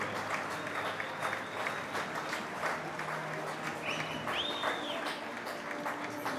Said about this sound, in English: Tons of applause from the audience for the Swiss team, of course, as the home team.